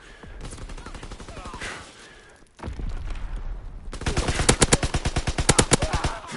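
Rapid automatic gunfire in the World War II shooter game Call of Duty WW2 rattles in dense bursts, then becomes a loud, steady rapid-fire stream of sharp shots.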